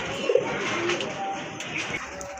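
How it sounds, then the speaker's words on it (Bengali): Large-sized Rajgolla pigeons, a pair, coo softly nearby against a steady background murmur, a few low calls scattered across the moment. "আরেক জোড়া রাজগোল্লা কবুতর আছে এগুলো কিন্তু অনেক বড় সাইজের কবুতর"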